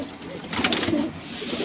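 Pigeons coo in a loft among golden and other fancy breeds, a close, soft, throaty cooing that swells midway through over a murmur of background noise.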